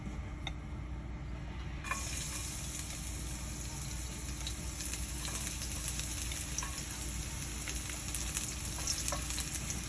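Garlic sizzles in olive oil in a pan, a steady close crackle and hiss with occasional sharp pops and stirring scrapes.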